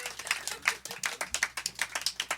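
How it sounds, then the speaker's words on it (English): Small studio audience claps for a performer, a quick run of distinct, fairly close handclaps at an uneven rhythm, thin rather than a full crowd. "Round of applause for this man right here."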